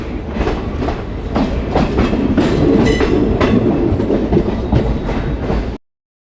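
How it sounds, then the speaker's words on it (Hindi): Vibhuti Express train passing through Kashi station without stopping, loud steady rumble with repeated clickety-clack wheel beats over rail joints, heard from on board, ending abruptly. "स्किपिंग काशी, हमारी ट्रेन ने काशी स्टेशन को स्किप किया है।"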